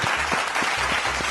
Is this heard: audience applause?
yes